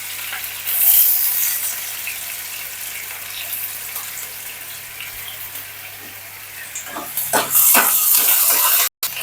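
Mustard seeds sizzling in a hot pan during cooking, a steady frying hiss that swells louder near the end with sharp crackles and pops as they hit the heat.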